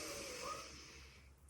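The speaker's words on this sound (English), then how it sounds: "Obviously, deep yogic breathing." A single deep yogic inhale, a soft breathy airflow that fades gently over about a second and a half, faint and close.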